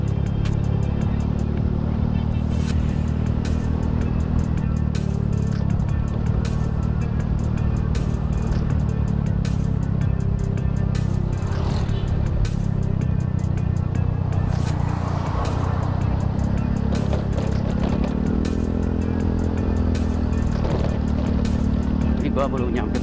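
Honda Beat FI scooter ridden fast on a road at night, a steady loud engine drone with wind rush running the whole time, rising and falling slightly as it revs.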